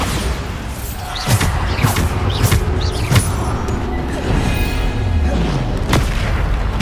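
Bombarda explosion spells cast in the Hogwarts Legacy video game go off as several heavy booms, spaced a second or two apart, over a steady rumbling battle background with no talking.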